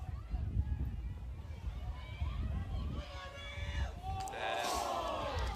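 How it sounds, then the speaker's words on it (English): Spectators at a women's C4 grand final Australian football match between Manning and Ellenbrook yell and roar as the ball is contested, a steady crowd din with rising shouts near the end and commentary-like talk mixed in. "Crowd screams for ball"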